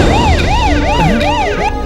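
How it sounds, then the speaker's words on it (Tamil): A police or ambulance siren wails loudly and close by in a fast, regular up-and-down sweep, repeating about four times with no talking over it. "டேய், என்னடா போலீஸ் சைரன் சவுண்ட் மாதிரி கேக்குது?"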